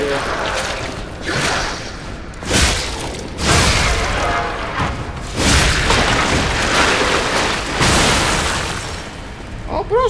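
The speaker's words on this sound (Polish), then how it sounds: "Ten wybucha." Explosion in the video game Lies of P, a sequence of loud booming blasts with debris crackle, recurring every couple of seconds over continuous game noise and music.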